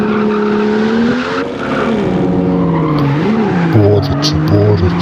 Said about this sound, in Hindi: कैसे ड्रिफ्ट मारता हूँ मैं।